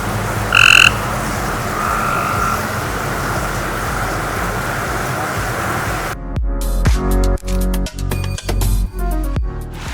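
Toads croak in steady chorus around a newly built koi pond, a dense trilling wash that fills the air, followed by a run of sharp knocks and thuds from nearby work.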